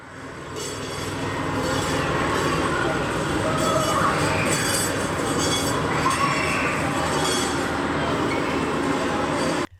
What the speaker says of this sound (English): one of the best rides I would have to recommend that you do first when you arrive here is the Monopoly train